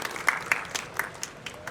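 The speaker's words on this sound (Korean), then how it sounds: "박수로 모시겠습니다." A small indoor audience at a corporate idea festival claps in a sparse, scattered way. The light claps come at a moderate, uneven rhythm at medium distance.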